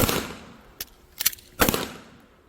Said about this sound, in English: I am going to step forward so I can shoot the ground.